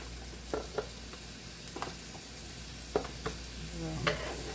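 Food simmers on a homemade hibachi griddle, a soft, steady sizzle with occasional clacks of a utensil against the metal, quiet and close.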